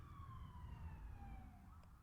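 Emergency vehicle sirens wail with a steady falling tone as they pass at some distance, heard faintly over low traffic rumble, with no talking.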